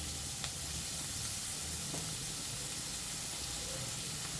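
Onions fry in a pan for fish curry, giving a steady, quiet sizzle and hiss that runs throughout with a few faint clicks and no talking.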